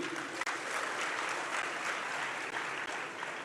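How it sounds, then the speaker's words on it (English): Applause from a large audience at a university's 75th anniversary launch ceremony attended by the Asantehene, dense continuous clapping that stays even and moderately distant throughout with no talk. "Please applaud Mr. Dan Akwe."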